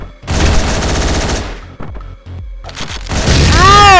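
Loud shotgun blasts in the video game Hotline Miami 2, a rapid burst of heavy booming shots followed by a few scattered single blasts and a rising ringing tone at the end, with no talk over it.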